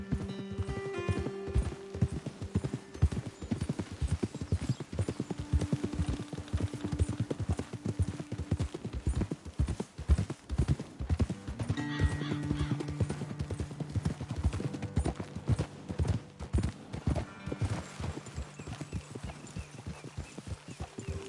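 Horses in the video game Red Dead Redemption 2 walking steadily with rhythmic hoof clip-clops, close and continuous, with an occasional whinny and soft game music underneath.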